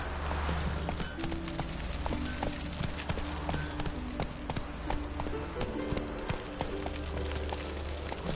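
Roach the horse gallops in The Witcher 3, a steady close clip-clop of hooves running continuously over a game backdrop, with no voice.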